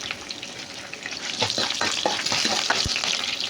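Tempering for daddojanam crackling in hot oil, with peppercorns, green chillies and dry red chillies spluttering in a pan, a close, steady sizzle with sharper pops and stirring scrapes and no talk.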